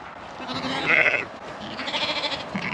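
Sheep bleating on a farm, several calls rising over a steady outdoor background and continuing through the whole stretch, fairly close and moderately loud.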